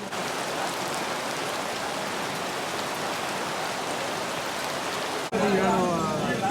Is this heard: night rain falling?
yes